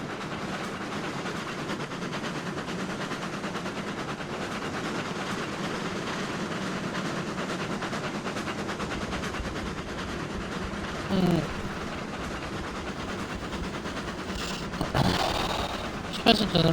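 Long train of about a hundred cars rolling along track in the Railroads Online video game, a steady continuous rumble with faint clatter, a couple of louder knocks near the end.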